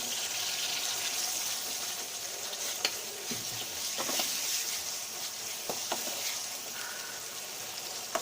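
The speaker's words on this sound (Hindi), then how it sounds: "इसमें टमाटर जो कटा हुआ है वो हम डाल देंगे।" Chopped tomatoes frying in a pan for an aloo matar curry, a quiet continuous sizzle with occasional scraping stirs of a spoon against the pan.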